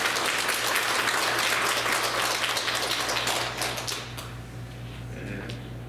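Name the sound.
church congregation applauding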